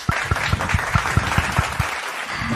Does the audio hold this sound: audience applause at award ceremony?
yes